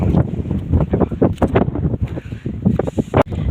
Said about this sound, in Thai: ลมแรงมากครับ มือถือผมจะปลิวเลยครับ